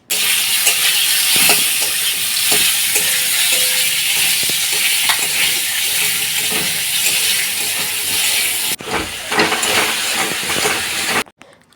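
Raw green mango pieces frying and being stirred in mustard oil with black mustard seeds, a loud close sizzle with scraping stir strokes that breaks off abruptly near the end; nobody speaks.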